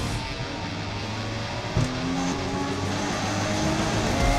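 GT4 race cars pull away from a green-light start at Circuit de Barcelona-Catalunya, a dense, steady engine drone of many cars together with a brief sharp bump partway through.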